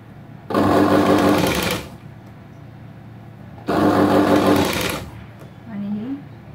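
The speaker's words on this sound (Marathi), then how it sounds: "आणि ही इथपर्यंत अशी शिलाई मारायची" A sewing machine stitches a princess-cut blouse in two loud, close bursts of rapid whirring, each over a second long, with quiet gaps and a brief voice near the end.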